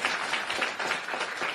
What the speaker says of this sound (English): Now you're clapping